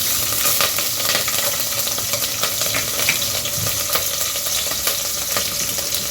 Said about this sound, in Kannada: ನೋಡಿ ಸಾಸಿವೆ ಜೀರಿಗೆ ಚಟಪಟ ಅಂತಿದೆ.